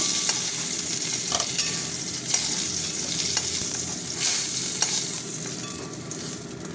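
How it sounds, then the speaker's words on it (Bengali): Cauliflower florets fry in hot oil in a pan for an egg curry, with a constant loud sizzle and intermittent scraping from stirring, no voices. "ফুলকপিটা ভাজা হতে থাক"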